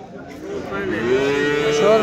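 A cow at a livestock market lets out one drawn-out, rising moo, loud and close, filling the whole moment.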